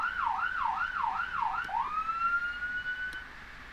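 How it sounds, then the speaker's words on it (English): A Whelen BETA1 police siren fitted to a Chevy Silverado cycles through a fast rising-and-falling yelp, then switches to a long steady tone, with clear, loud tones and no voices. "we mounted the Whelen BETA1. This is your siren package here. Make a little noise for you."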